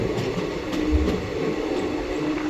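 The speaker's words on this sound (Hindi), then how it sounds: "दस मिनट बिफोर पहुंच रही है अपनी ट्रेन इटावा जंक्शन पे" Howrah–New Delhi Special passenger train running near Etawah Junction, a steady close rumble with low thumps and faint clattering of wheels throughout, no voices.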